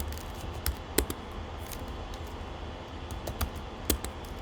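Keys clatter sparsely on a computer keyboard while a command is entered, with a few sharp taps standing out against a low steady background hum.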